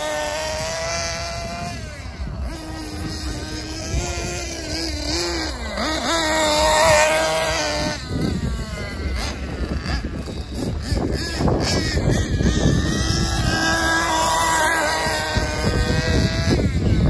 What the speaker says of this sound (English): the Serpent Buggy keeps on rolling